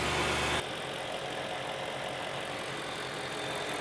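A BMW S65 V8 engine in a 103,000-mile E92 M3 starts with a louder opening burst, then idles with a steady, slightly rattly rumble, running continuously without voices.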